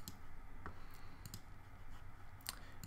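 A few sharp computer mouse clicks, faint and spaced apart, while photo-editing software loads and applies custom LUTs.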